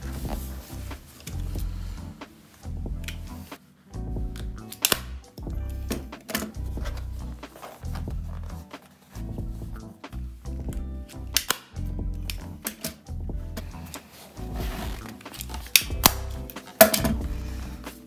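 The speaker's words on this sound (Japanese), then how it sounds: "大ホチキス使っていきたいと思います。" A large staple gun fires repeatedly as fabric is fastened onto a metal folding chair being re-covered in a retro style, giving close, sharp snapping shots in irregular bursts with short pauses between.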